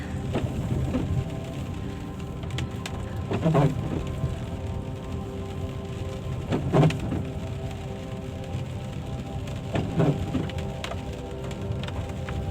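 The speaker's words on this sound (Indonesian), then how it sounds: "Kalau hujan begini dingin, agak berembun kacanya." Steady rain drumming on a car's roof and glass, heard from inside the vehicle on a cold day, a continuous dense patter with occasional louder drops and knocks, no talk.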